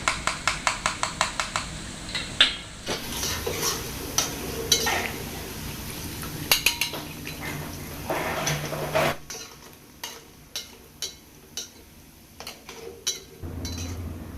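Fried tempeh is lifted out of a pan of hot oil to drain, with a steady sizzle beneath repeated sharp clinks and scrapes of a utensil against the pan, close and moderately loud, with no talking.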